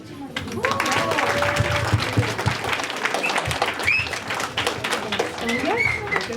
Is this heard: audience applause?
yes